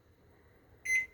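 A kitchen oven's control panel gives a single short electronic beep while bake and timer are set, crisp and close after a quiet moment, with no talking.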